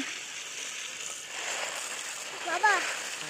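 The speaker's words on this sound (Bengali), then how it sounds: "এই যে তেজপাতাগুলো এখন ধুয়ে নিতেছি" Bay leaves being rinsed by hand in water, with faint continuous sloshing and a brief louder splash near the end; a voice talks over it.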